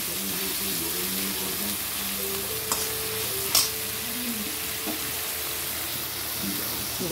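Onions and fish fry in hot oil with a continuous close sizzle, joined by a few sharp utensil clicks and faint low tonal voice-like sounds in the background.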